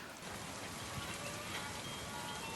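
Steady heavy rain hisses continuously and evenly at a riverside campsite by the Ramganga River, with no voices.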